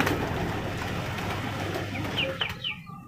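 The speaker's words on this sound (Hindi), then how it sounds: "मैं अपने कबूतरों को पहले बाहर कर देता हूँ।" Pigeons cooing and fluttering nearby, with soft bird calls over a steady background rumble that quiets toward the end.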